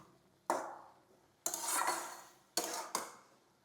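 A spatula scrapes and clatters against a pan while stirring a winter vegetable fry, four distinct close strokes with short pauses between them and no talking.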